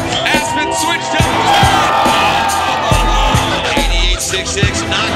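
A crowd cheers loudly at a 2012 men's ski slopestyle event, with whoops and shouts in a continuous roar and an announcer talking over the noise.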